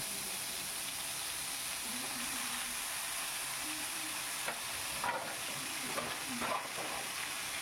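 Onion paste sizzling as it is stirred and fried in a pan, a constant hissing fry with a few scraping stirs near the end.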